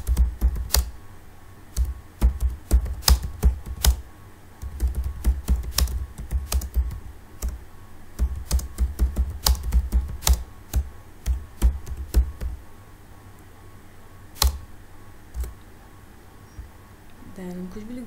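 Keys clatter on a computer keyboard as an HTML comment is typed, in quick irregular bursts with brief pauses, fairly close and clear, with a few isolated clicks near the end.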